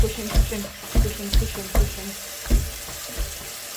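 Water running from a kitchen tap into a clogged sink, a continuous gushing flow punctuated by regular rhythmic sloshing pulses about every half second as the water is pushed down by hand.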